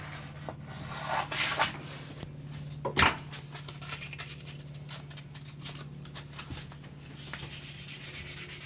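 Sandpaper of 320 grit rubs over a baritone guitar body in soft, close strokes with an occasional louder knock, building into a rhythmic back-and-forth sanding at the end.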